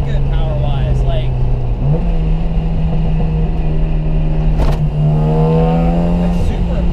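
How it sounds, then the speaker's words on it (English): A turbocharged Mazda NA Miata accelerating, heard from inside the car: a loud, steady engine drone that shifts pitch partway through, with people talking over it. "I've never ridden in an NA Miata that had that kind of positive acceleration"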